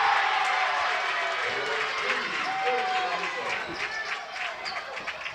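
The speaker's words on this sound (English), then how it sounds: "there's a great crowd here right now" Home crowd noise fills a high school basketball gym during a Lakin Broncs versus Goodland game, a steady roar of voices and cheering with scattered shouts and sneaker squeaks.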